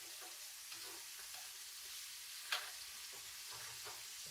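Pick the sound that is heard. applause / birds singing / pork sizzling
pork sizzling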